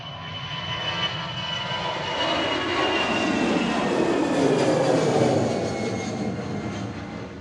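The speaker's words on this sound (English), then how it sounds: "This is EasyJet headed off to Paris Charles de Gaulle." An EasyJet airliner taking off from Manchester Airport, bound for Paris Charles de Gaulle: a loud, sustained jet engine roar that swells and then slowly recedes as the plane climbs away.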